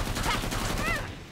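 Enemy Hans fires at the player in Killing Floor 2, a dense rattle of gunfire running steadily through the whole moment with a voice talking faintly over it.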